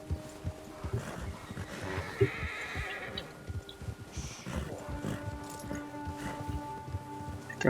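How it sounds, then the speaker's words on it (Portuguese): A horse in Red Dead Redemption 2 whinnies and neighs several times near the listener, with clip-clop hooves and a hum of ambient game sound underneath. "Tem que acalmar o cavalo aqui"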